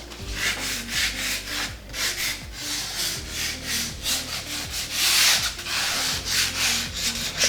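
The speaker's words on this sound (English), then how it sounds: "all we need to do is do some distressing, both on the frame edges to kind of reveal that undercoat" Sandpaper rubs back and forth over the edges of a painted wooden frame to distress it, a close, raspy scratching in quick steady strokes with no talk.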